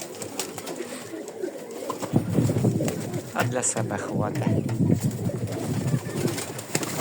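Pigeons cooing outdoors in windy December weather, soft repeated coos blending with gusts of wind noise while a person speaks over them.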